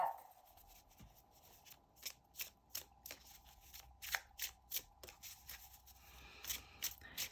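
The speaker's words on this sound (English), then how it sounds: "So I'm going to pull a few cards from the self-care deck." Tarot cards from a self-care deck are shuffled and pulled, making quiet, close papery flicks and riffles in a loose irregular rhythm of soft snaps.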